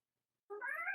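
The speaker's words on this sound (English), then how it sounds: "I apologize for the cat." A cat gives one close, drawn-out meow that begins abruptly after half a second of silence and rises in pitch, with no voices.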